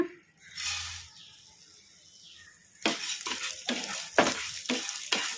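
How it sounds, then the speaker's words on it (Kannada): Coriander seeds are tossed and stirred in a dry kadai, first faint rustling, then a burst of gritty scraping and rattling strokes of the spoon against the pan, close. "ಈಗ ಇವನ್ನ ಕಡಾಯಿಗೆ ಹಾಕಿ ಫ್ರೈ ಮಾಡ್ಕೊಂಬಿಡೋಣ"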